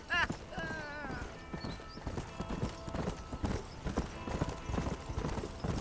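Hooves clip-clop steadily under a horse's whinny in the Old West setting of Red Dead Redemption, with the rhythmic trotting beat running beneath a spoken line and a game soundtrack.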